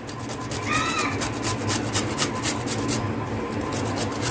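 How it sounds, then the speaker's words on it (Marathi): Raw green mango being grated by hand: a close, rhythmic rasping scrape repeating in quick even strokes throughout. "कच्ची कैरी अशी आता किसून घालायची आहे आपल्याला."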